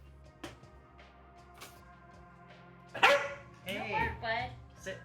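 A dog barks in a short burst of several yips, close and moderately loud, mixed in with casual talk from people nearby.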